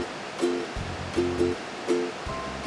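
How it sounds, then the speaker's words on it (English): Steady broadband rush of Kaimu Kanaka Falls, a waterfall on Hawaii's Big Island, heard close and continuous with a few faint tonal blips over the water noise. "Harrison brought us to the Keimu Kanaka Falls."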